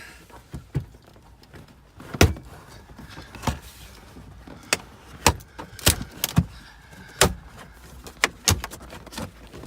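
A series of sharp plastic pops and thunks of trim clips snapping loose in a Cadillac SRX, at irregular intervals, close by, over a faint background hum.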